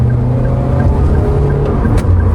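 Engine of an automatic car on a Trans-Sumatra highway, held in 3 rather than D to overtake, droning steadily and loud with a low, slightly rising tone and no talk.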